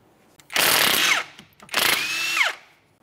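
Two bursts of a power tool spinning a 17mm socket off the tie rod nut on a 2011-2020 Toyota Sienna during front wheel bearing work, each lasting about half a second to a second and dropping in pitch as it stops, close and loud.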